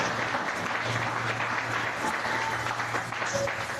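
A church congregation applauds and cheers for Jesus, dense steady clapping from a large crowd sustained throughout without pause.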